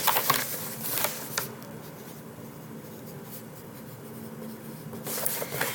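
Pencil writing notes in a journal, scratchy strokes close up in short bursts at the start and end, with a quieter stretch in between.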